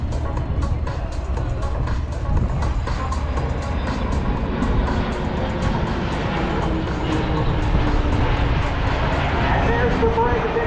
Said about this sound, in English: As the aircraft break formation, the KC-135 is maneuvering for a landing attitude